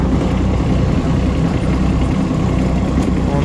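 Hinomoto CX-14 Japanese mini tractor with a 120 cm soil tiller attachment, its engine running steadily at close range as it turns in a tight space, a continuous low rumbling drone with no talk.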